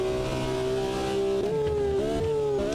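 A classic racing car engine screams at high revs in a racing sim, holding a steady loud note with brief dips as it shifts or lifts before climbing again.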